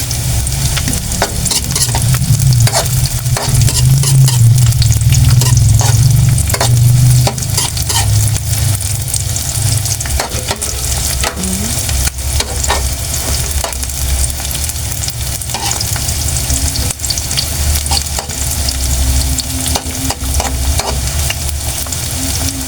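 Chopped garlic and onion fry in hot oil in a pan, giving a loud, continuous sizzle with occasional scraping and stirring, close up and without any voices.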